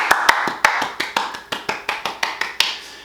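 Hands clapping in a steady run of about fifteen sharp, close claps, evenly spaced and fairly loud, with no talking.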